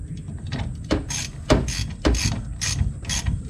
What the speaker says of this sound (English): just putting the final nut on now.